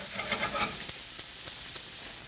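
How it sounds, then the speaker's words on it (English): Zucchini and squash sizzling in butter in a pan, a soft, faint crackling hiss with a few light clicks and stirring taps. "A little more butter in there, because you want to see that sizzle."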